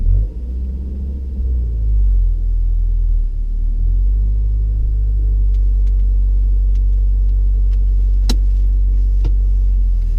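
Car pulling away during a driving test, a steady low engine rumble and road noise inside the cabin as it moves off, with a few faint clicks near the end and no talking.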